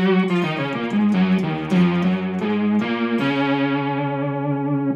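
An electric guitar runs through an EHX Synth9 synth pedal set for instant attack, giving a buzzy, synth-like monophonic melody of sharp-onset notes that sustain steadily and close up, with no talking.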